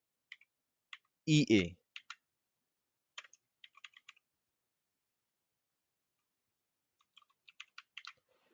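Computer keyboard typed in short, sparse bursts of clicks while entering code in a frontend development setup, with a brief spoken word in the middle and quiet gaps between keystrokes.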